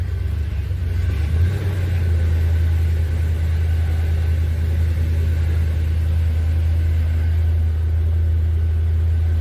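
A 1978 Chevy C10 truck engine idles with a steady, loud low rumble that holds constant throughout, close by with no talk.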